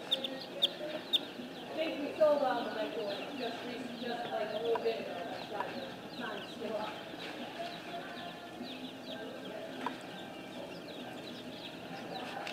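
Chicks peeping and clucking in a brooder at a farm supply store, a busy cluster of small high chirps near the microphone with bits of human voice underneath.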